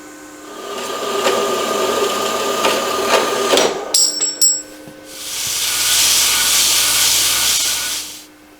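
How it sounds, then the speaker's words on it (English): A 1/4 inch TIG weld test piece is cut in half, with close scraping and clanking, a few sharp metallic strikes, then a loud sustained hissing cut that fades out. "And there's the 1/4 inch weld. We'll cut that in half too."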